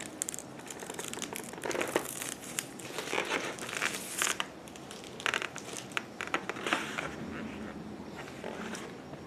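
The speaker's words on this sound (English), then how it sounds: "I'm going to peel off the plastic." Protective plastic film peeled off a welding helmet during an unboxing, a steady close crinkling and tearing rustle that runs throughout, fairly quiet.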